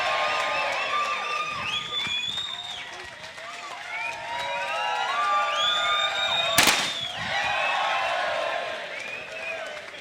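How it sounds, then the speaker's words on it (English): A confetti cannon fires on the O2 Blue Room stage after England v France with one sharp, loud bang, set amid a noisy crowd cheering and applauding. "Oh, I do love a confetti cannon."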